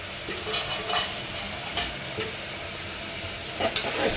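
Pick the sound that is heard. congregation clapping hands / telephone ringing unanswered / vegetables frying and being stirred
vegetables frying and being stirred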